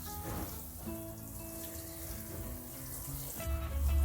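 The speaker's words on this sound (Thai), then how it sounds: "รดน้ำให้ชุ่มแต่ไม่แฉะ" Water splashes and pours steadily onto a small backyard vegetable bed, a continuous close wash of flowing water with no talking.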